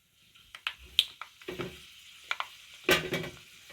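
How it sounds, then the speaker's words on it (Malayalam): Mustard seeds and fenugreek seeds pop and splutter in hot coconut oil for a Kerala-style lemon curry, with a run of sharp crackles and small bursts, a louder cluster near the end, over a faint sizzle. "ഉലുവായും അങ്ങനെ പൊട്ടുന്നു."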